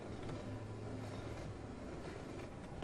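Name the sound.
train riding in Half-Life 2 video game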